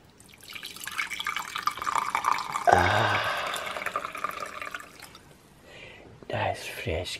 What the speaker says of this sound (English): So, I'm gonna pour the coffee for you guys.